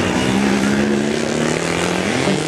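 Light propeller aircraft taxiing on the ground, a loud steady engine drone with a droning hum close by that shifts slightly in pitch toward the end, continuous throughout.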